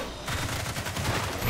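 Deployed sentry guns in the sci-fi shooter Evolve keep up rapid, dense automatic fire throughout, a loud, busy fusillade of overlapping shots close by.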